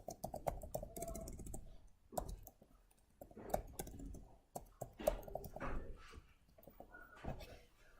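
Faint typing on a computer keyboard during a C++ programming class, with irregular clicks and taps that come and go against a quiet room background.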